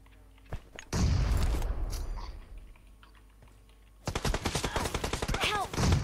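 Video game gunfire crackles in two dense bursts of rapid shots, one early and a louder, longer volley near the end, with quieter gameplay sounds between them.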